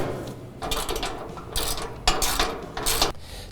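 A ratchet socket wrench clicks in several quick bursts while tightening bolts on a RuggedMade MX-9 concrete mixer, each loud, close stroke of ratcheting separated by short pauses.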